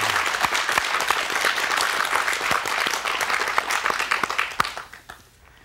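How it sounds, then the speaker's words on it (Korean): Studio audience applause on a Korean talk-show set, dense sustained clapping that holds steady and then thins out and fades near the end. "박수 보내드립니다."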